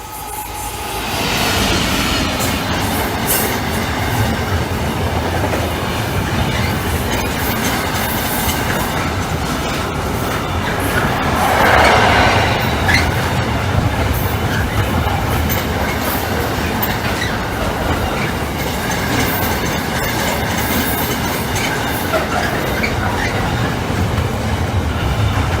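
A freight train rumbles steadily through the Saxilby level crossing, close and loud, with continuous clickety-clack of wagon wheels and a brief squeal midway, sustained for the full length.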